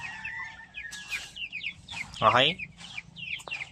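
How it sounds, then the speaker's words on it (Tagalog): Chicks in a backyard coop peep and cheep in quick high bursts, one louder call standing out, while a voice speaks briefly nearby. "Sa ating yan, mga sisiw natin yan."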